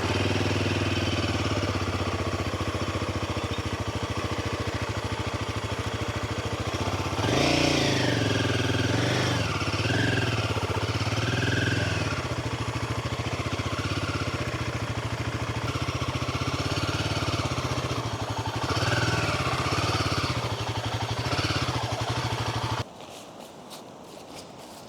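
Motorcycle engine running while the bike is ridden into a large tent at a solo night forest camp in Uttarakhand, a steady close drone with a few louder revving surges before it cuts off near the end.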